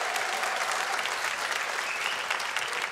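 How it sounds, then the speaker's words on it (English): Audience at a live stand-up comedy show breaks into dense, steady applause that holds at an even level throughout, with no voices over it. "The applause of people who don't have to live with me there."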